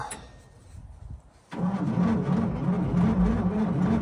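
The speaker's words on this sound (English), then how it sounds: "It actually still turns over." An old ex-government car's engine cranks briefly, then catches and starts, settling into a loud, steady idle that runs on without pause.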